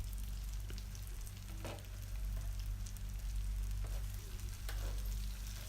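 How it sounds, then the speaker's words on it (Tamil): Pepper chicken frying in oil in a restaurant-style Tamil kitchen, a steady close sizzle with fine crackling pops running throughout, no voices. "சிக்கன் தண்ணி விடுங்கிறதுனால நம்ம ஊற்றிருக்க எண்ணெயிலேயே இது வெந்துடும்"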